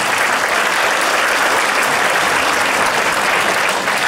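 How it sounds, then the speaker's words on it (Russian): Loud, dense applause from a concert audience at a March 8 celebration, a continuous even roar of many hands clapping throughout with no talk over it. "Ваши аплодисменты."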